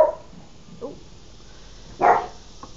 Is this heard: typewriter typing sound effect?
no